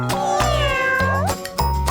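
A cartoon kitten meows three times in quick succession, each call bright, rising and falling, loud and close, with nothing else around it.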